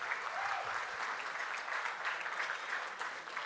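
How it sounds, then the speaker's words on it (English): A room of guests at an awards program gives a sustained round of applause, dense and even throughout, moderately loud and without talk over it. "How about a nice round of applause?"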